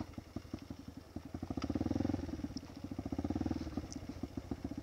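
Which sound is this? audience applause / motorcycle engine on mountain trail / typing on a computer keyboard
motorcycle engine on mountain trail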